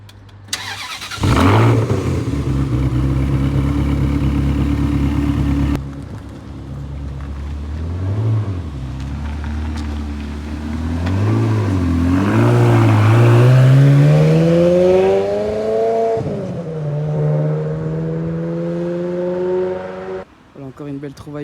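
Loud 2004 sports car engine starting up, then revving hard with rising pitch as it pulls away and drives past, strong and close, with people talking faintly beneath.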